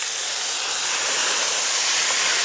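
Wine poured over toasting risotto rice in a hot pan, producing a loud, steady steamy hiss and sizzle that fills the whole moment close up, with no talking.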